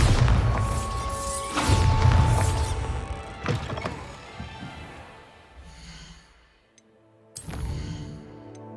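A Bombarda spell explodes in Hogwarts Legacy, with several sharp blasts and crashing impacts spread across the stretch, then a fresh burst after a brief lull.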